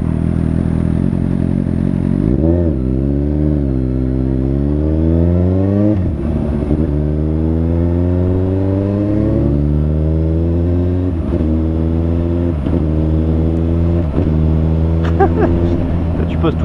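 A Suzuki GSR 750 fitted with a shorter sprocket setup pulls hard through the gears, its engine climbing in repeated rising revs with brief dips at each shift, loud and close, while riders talk over it.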